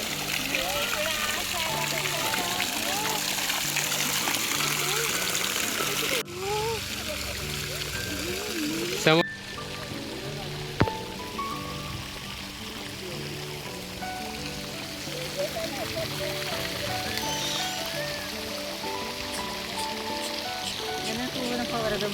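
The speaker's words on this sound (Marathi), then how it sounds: "झुळझुळ वाहणारा पाण्याचा आवाज किती छान वाटतो ना कानाला ऐकताना" Gently flowing water trickles and splashes continuously at Dragon Palace, Kamthi, with a steady wash throughout and tonal music or voices faintly layered over it.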